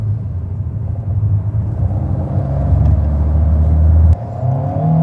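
An Alpine A110 GT, a 2023 mid-engined sports car, accelerates onto a motorway, its engine rumbling and rising in pitch as it pulls, then a brief drop at a gear change before climbing again, close and loud with no talk.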